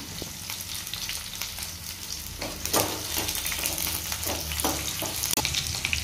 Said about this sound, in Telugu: సన్నగా కట్ చేసుకున్న ఆనియన్, కొద్దిగా పచ్చిమిరపకాయ వేస్తున్నాము